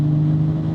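A BMW 440i Gran Coupe in fifth gear just above 2,000 rpm at half throttle on a rainy drive, its engine giving a steady, close, low droning hum with no talking.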